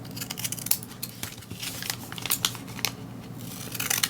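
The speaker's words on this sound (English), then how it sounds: "But I just cut off the top so that it looked a little cuter." Scissors snip through the top of a paper tea bag holder, with a run of crisp cuts and papery crinkles close by that come in uneven bursts.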